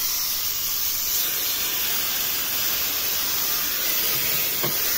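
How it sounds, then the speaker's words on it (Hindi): Refrigerant gas escaping from the AC condenser line of a Kia Carens, a loud, steady, close hiss that holds unbroken throughout. "गैस इधर से निकल रहा है।"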